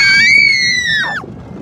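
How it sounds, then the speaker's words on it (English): Person screaming on an amusement ride as it drops, one sustained, loud, high scream that slides downward and cuts off, over steady rushing background noise. "I'm gonna scream."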